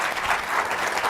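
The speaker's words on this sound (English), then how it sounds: "give that a round of applause." Brief, dense audience applause at a women's summit panel, a loud wash of clapping from a large crowd.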